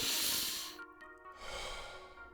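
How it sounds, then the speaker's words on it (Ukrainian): Deep exhale during Wim Hof breathing: a long, loud, breathy rush of air released up close, a brief pause, then a second softer breath. "Через живіт і груди видихай"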